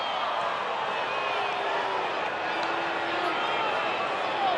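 At an Angels home game against the Cleveland Guardians, the baseball stadium crowd reacts to a called strike with a steady, distant murmur of disapproval under the broadcast chatter.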